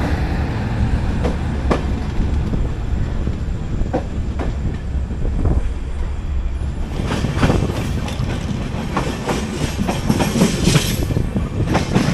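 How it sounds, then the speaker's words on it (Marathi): A moving express train running from Madgaon toward Dudhsagar in Goa, heard from on board, with a loud continuous rumble and rhythmic clickety-clack of wheels on the rails that grows brighter and busier toward the end. "ट्रेन पण सुटलेली आहे"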